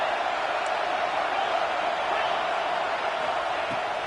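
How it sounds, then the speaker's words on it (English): Stadium crowd in an NCAA football video game, a steady, dense roar of many voices held at an even level throughout, with no clear swell or cheer. "This crowd rising up, sensing that its defense needs some help."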